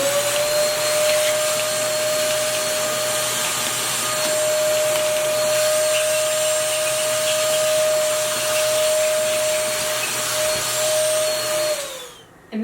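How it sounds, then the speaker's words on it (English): Vacuum cleaner working over sofa cushions, its motor holding a loud, even whine throughout, then spinning down as it switches off near the end. "Now we're gonna just vacuum the cushions."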